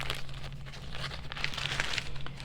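Soft plastic bag crinkling and rustling in short bursts, close by, over a low steady hum, while being pushed into a wooden box planter.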